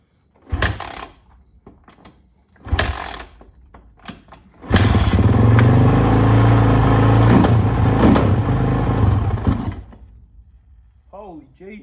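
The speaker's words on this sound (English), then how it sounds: "freaking started on the third kick too" Suzuki RMZ450 dirt bike after major engine work, with a few hard kick-start thumps followed by the engine catching and running loud and close for several seconds, then a voice afterward.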